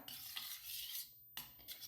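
Jowar flour and water being stirred together in a pot with a utensil, giving quick scraping, clinking strokes in short bursts with a brief pause, close and fairly quiet, no voices.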